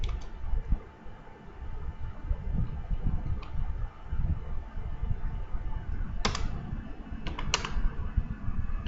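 Fingers typing a width value on a computer keyboard, a close, uneven run of soft key clicks with a few sharper taps near the end.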